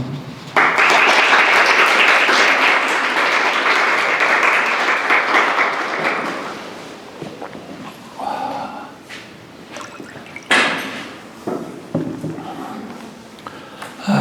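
An audience at an art history lecture applauds to welcome the lecturer, loud sustained clapping for about six seconds that fades into scattered claps, shuffling and rustling.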